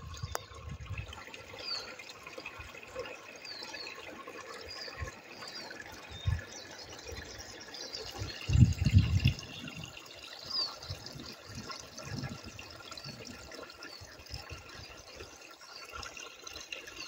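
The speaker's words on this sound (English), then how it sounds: "Get across the water here. A wee burn." A wee burn, a small stream crossed along a country road, trickles faintly and steadily, with a brief louder splash partway through.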